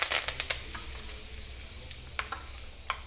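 Curry leaves crackle and sizzle in hot oil with fenugreek seeds for a Nawabi chicken dish, a steady close frying hiss broken by sharp pops and spatters.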